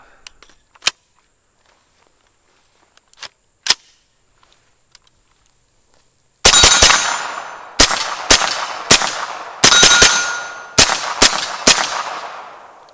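A UTAS UT9M 9mm pistol-caliber carbine fitted with a Rugged Obsidian 45 suppressor fires about ten sharp, loud reports in quick, slightly uneven succession after several seconds of near silence broken by faint clicks.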